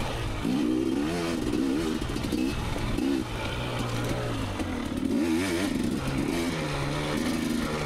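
A 2019 KTM 250xc two-stroke dirt bike ridden off-road at Johns Peak OHV, its engine revving up and down in rapid rising and falling bursts, loud and close, with no talking.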